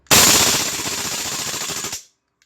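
A Maruyama SCW9 gas airsoft gun fires a loud, rapid full-auto burst of closely spaced shots for about two seconds, then cuts off abruptly into silence.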